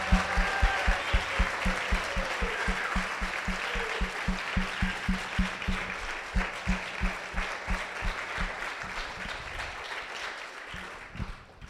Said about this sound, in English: Can we just give them one big round of applause once again?